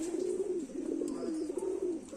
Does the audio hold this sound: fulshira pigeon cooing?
yes